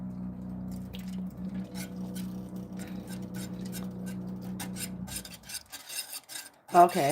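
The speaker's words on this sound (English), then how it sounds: "we're just going to kind of whisk this all together, the milk, the vanilla, and the cacao that we have in there" Milk, vanilla and cacao whisked together in a bowl for a blue lotus moon milk, a steady rubbing, scraping swirl that runs for about five seconds, then stops before a brief clatter and a short spoken word.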